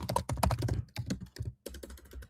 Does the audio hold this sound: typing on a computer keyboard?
yes